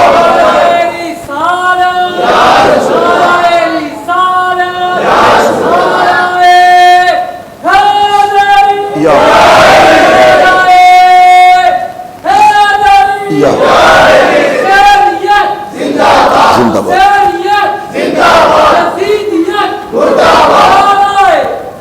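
A large crowd at a religious gathering shouts slogans back in loud, chanted unison, in repeated bursts of several seconds separated by short pauses.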